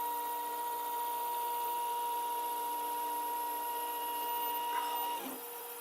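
A 3D printer laying down a part on its heated bed, a steady whirring hum of stepper motors with shifting tonal whines, close and constant, briefly changing pitch near the end, with no talking.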